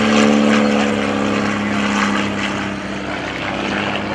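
A PT-26 primary trainer aircraft with a fixed-pitch propeller drones steadily and loudly in flight at a World War II Weekend, its engine and propeller hum sustained and even throughout.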